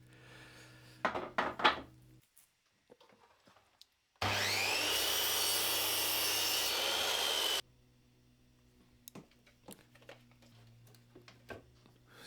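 A saw cuts wooden cross sections for a handmade rocking chair in one steady, loud burst of about three seconds, with quiet knocks and handling noises before and after.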